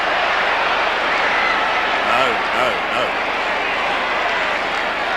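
A football crowd at Kardinia Park during a 1993 AFL match between Geelong and Essendon roars continuously, a dense steady swell rising and falling with faint whistle-like tones, under a commentator's voice.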